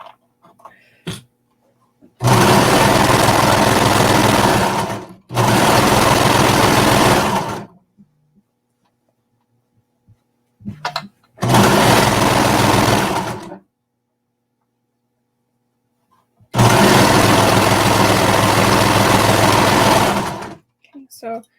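A sewing machine stitching binding onto a garment neckline runs in four loud, close bursts of steady whirring, each lasting a few seconds, separated by silent pauses with faint handling clicks.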